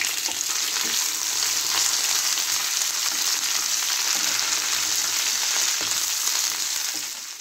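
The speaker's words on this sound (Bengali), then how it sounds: "কুমড়োগুলো দিয়ে দিচ্ছি।" Pumpkin pieces sizzling in a hot pan for a vegetarian pui shak chorchori, a loud continuous hiss with light stirring scrapes and occasional crackles, no voices, fading slightly at the end.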